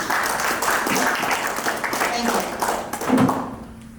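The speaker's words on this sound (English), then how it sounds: "give her a round of applause, please" Audience applause at a client care program event, a steady wash of clapping from a room of people with voices talking over it.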